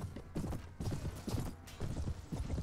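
Galloping horse hooves during mounted combat in the medieval game Prophecy of Pendor, a rapid, rhythmic clip-clop pattern, fairly quiet and steady, without talk.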